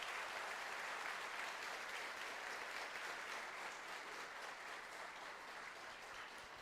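Steady, dense applause from a church congregation honoring Jesus during a service, filling the whole stretch at an even level and tapering slightly toward the end, with no voices standing out.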